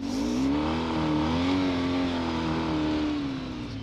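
A motorcycle engine revs hard and steady, close and loud, its pitch rising and falling slightly as the rear wheel spins in fresh dirt.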